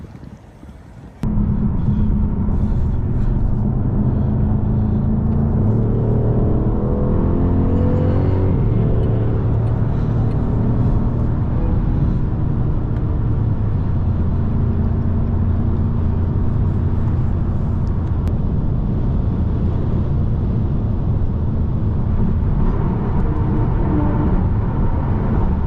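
A BMW M550i pushes through a top speed run at sunset, its engine a loud, continuous roar with rising revs and gear changes, heard from inside the cabin over steady road rumble, no talking.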